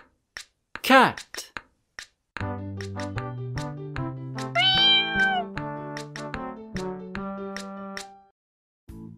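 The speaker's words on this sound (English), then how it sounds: "Cat." A cat meows in a farm-animal sounds song for children, the high rising call sitting briefly near the start before a tuneful melody with singing takes over.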